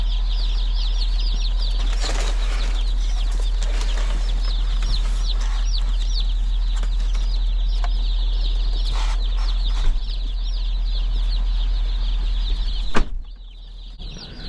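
Dense, continuous high peeping and soft clucking comes from many chicks in a brooder, with a steady low hum underneath, a brief bump near the end, and no talk.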